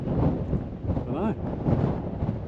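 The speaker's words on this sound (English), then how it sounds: "Whoa, when you're up here, gale full swing" A strong gale blows across an exposed coastal lookout beside a lighthouse on an Australian beach, making a loud, continuous buffeting rumble on the microphone with a brief warbling tone midway.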